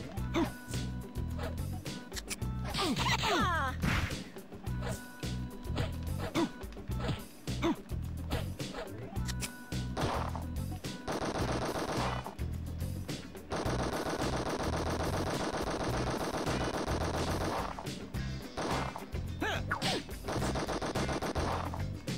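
Gunfire in the Sega Saturn fighting game Final Fight Revenge, loud bursts of rapid machine-gun fire and single shots, repeated almost nonstop with short gaps, mixed with crashes and impacts.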